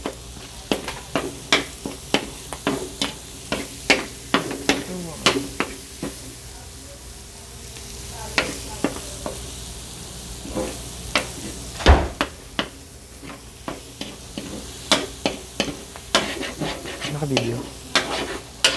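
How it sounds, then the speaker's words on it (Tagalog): Onion sautés in a pan with a steady sizzle of hot oil, broken by regular scraping knocks as a utensil stirs it, close and clear throughout. "saute the onion first"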